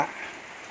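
Light evening drizzle falling where an elephant lounges, a soft steady hiss throughout with a brief louder onset at the start, no voices.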